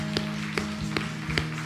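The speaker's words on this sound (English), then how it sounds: "give him a hand clap" A church congregation claps along in slow, even beats, four sharp claps about half a second apart over a sustained musical drone.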